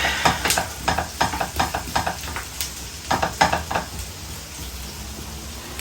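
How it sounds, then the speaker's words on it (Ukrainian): Zucchini and onion frying in a pan, with a steady sizzle and repeated scraping, stirring clatters at close range; no talking. "викидаємо сюди ці кабачечки. Хай вони також всі. Підсмажується трошки."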